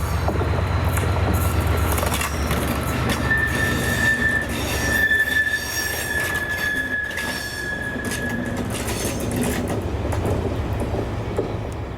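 Freight train hauled by class 68 locomotives 68018 and 68004 in Scotland rumbling past close by, with clattering wagons and a sustained high wheel squeal running through the middle, no talking.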